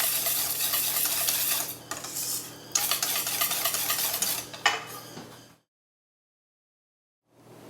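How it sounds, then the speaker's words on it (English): An egg being whisked into a light batter for zucchini blossom fritters. Brisk, close, rhythmic scraping and clinking against a bowl stops abruptly, leaving a few seconds of silence before faint sound resumes. "Now add the egg and whisk again until well incorporated."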